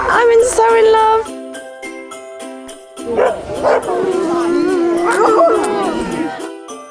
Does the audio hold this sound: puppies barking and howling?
yes